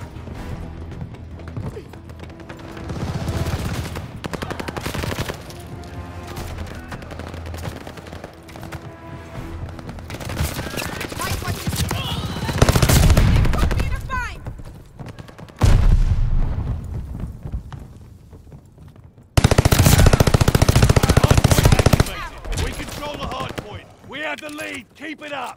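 Gunfire and bursts of automatic weapons in a Call of Duty Vanguard Hardpoint multiplayer match, with sharp volleys, booms and dense battle noise over game music, while voices talk over the action.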